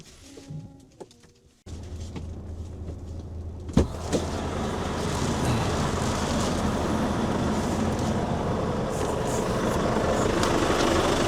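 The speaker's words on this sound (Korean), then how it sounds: "시동을 거시고 잠깐 계시다가 출발을 하시던데요" A Volvo truck engine fires up after quiet birdsong, settles into a steady low rumble, then grows louder as the truck pulls away, with a sharp knock partway through and birds still faintly chirping.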